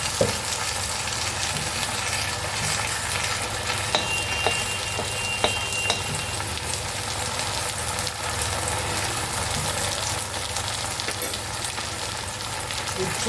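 Hyacinth beans with shrimp and ginger-garlic paste frying in a pan, a steady dense sizzle with faint clinks of stirring, loud and close, no voices.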